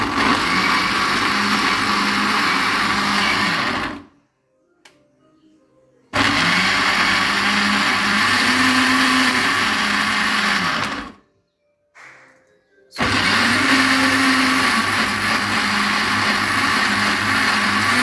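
A blender whirs loudly in three long bursts while blending beetroot and a little water into juice, stopping briefly between them, with a steady high-pitched motor drone throughout.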